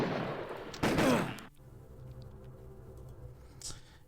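Gunfire in the 1996 PC game Harvester: one loud burst of shots up front, followed by quieter game ambience and a faint later crack.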